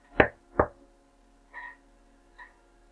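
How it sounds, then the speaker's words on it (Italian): Knocks on a door in a horror story: two loud, sharp raps close together, then after a pause two softer, duller taps, with no voices. "Sentii bussare di nuovo 3 volte"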